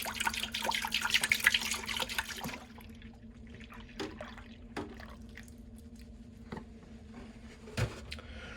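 Whole milk poured from a gallon jug into an Instant Pot: a steady liquid splash for about two and a half seconds, then quiet with a few faint drips and small knocks.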